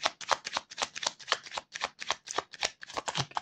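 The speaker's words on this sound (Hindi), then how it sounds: "Let me shuffle more." Tarot cards being shuffled by hand in quick, rhythmic riffling bursts, close and crisp, with no talking over them.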